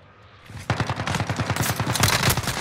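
Automatic gunfire in Call of Duty: Modern Warfare, a rapid, sustained burst of close, loud shots that keeps going from about half a second in to the end.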